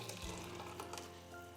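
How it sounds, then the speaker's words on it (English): Water poured from a measuring cup into a soup pot while making vegan mushroom soup, a steady splashing, gurgling stream close by, continuous through the whole moment with no talk. "We're going to pour the water in for the first cup, and then we're just going to pour that in."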